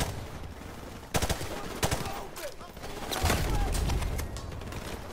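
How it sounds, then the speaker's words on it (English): Gunfire from a G3 rifle in Call of Duty: Modern Warfare Remastered, fired from a window in a boggy level: several sharp, spaced single shots, then a denser burst of firing, with a voice talking faintly underneath. "here I rather go into this window and just shoot a couple more out there"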